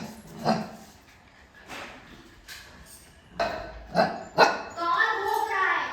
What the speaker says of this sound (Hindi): बाहर कुत्ते भोग रहे हैं